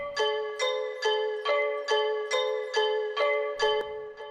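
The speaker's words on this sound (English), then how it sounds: "we have these two bells playing the same melody on top of each other" Two layered synth bell presets play the same melody together in a steady run of about ten bright, evenly spaced notes, each struck sharply and decaying, with no talking.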